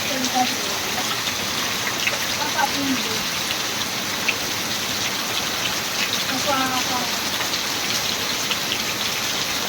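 Rain begins falling as a steady, dense hiss of drops on surfaces that runs unbroken throughout, with faint voices briefly audible in the background.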